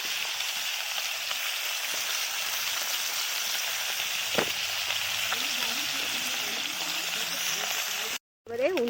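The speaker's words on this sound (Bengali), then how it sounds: "মাছগুলো ভাজা হয়ে গিয়েছে" Small ulli fish fry in hot oil in a home kitchen pan, a continuous close crackling sizzle with scattered pops, joined near the end by a brief voice and a sudden cut.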